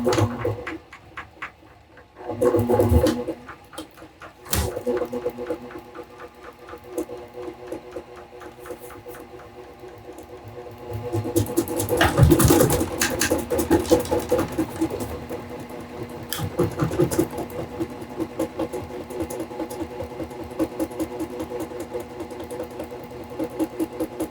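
A honey extractor drum whirs as it spins, a steady mechanical motor hum with rattling that builds and pulses close by, with no talk.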